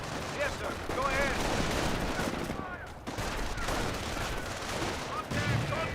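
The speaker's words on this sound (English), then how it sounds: "Another incendiary grenade there." Incendiary grenade bursting amid a Company of Heroes battle, with rattling small-arms and machine-gun fire crackling throughout and a voice talking over the steady combat din.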